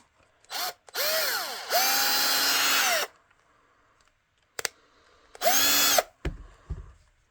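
A Parkside cordless drill driver whirs close by in several short bursts, spinning up and winding down, with a brief click between runs and a quieter gap in the middle.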